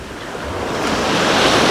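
Sea waves wash up a beach among groynes and partly cover wooden stalks, a steady broadband roar of surf that swells slightly louder over the short stretch, close and continuous with some wind.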